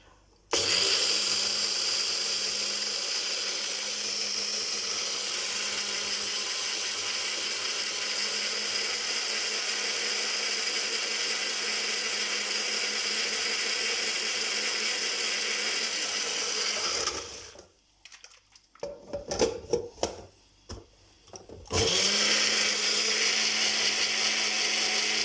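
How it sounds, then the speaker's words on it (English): Coffee grinder whirring steadily as it grinds sesame seeds into paste for tahini, a loud continuous motor drone for about seventeen seconds, then a brief stop with clatter and handling before the motor starts again. "Now this is a coffee grinder, which obviously I've cleaned."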